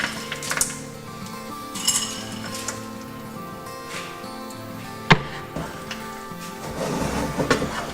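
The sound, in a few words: mixing corned beef pie filling with frozen peas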